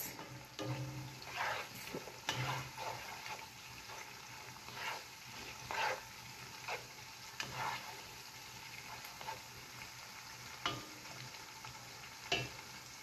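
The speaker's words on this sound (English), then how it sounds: "Just give it a quick stir" Okra and spinach soup stirred in a pot, a faint steady simmer broken by a series of scraping, knocking spoon strokes at an irregular pace, with no talking.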